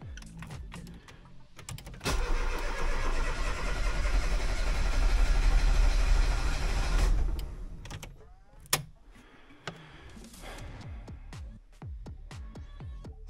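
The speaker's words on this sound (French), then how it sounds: "C'est mieux, mais elle veut pas démarrer." A car engine cranks for about five seconds without catching, tested with the air filter removed, a loud steady grinding whir that stops, followed by scattered clicks and knocks.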